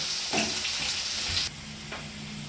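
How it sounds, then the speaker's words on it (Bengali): Potatoes fry in a pan, giving a close, bright sizzle with a few stirring scrapes; the hiss dips briefly midway, then resumes, with no one speaking. "হালকা একটু আলুগুলো ভেজে নেবো প্রথমে"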